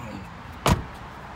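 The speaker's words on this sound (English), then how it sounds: "So we have just enough room to get the trunk open right there." A 2018 Ford Escape SEL SUV's rear trunk being opened in a tightly packed parking area, a single short latch clunk standing out once against faint background ambience.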